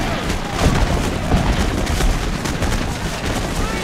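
Troops fire muskets in volleys in a Take Command 2nd Manassas Civil War battle game. Loud, crackling gunfire rolls on continuously, with overlapping booms forming a thick, sustained battlefield roar.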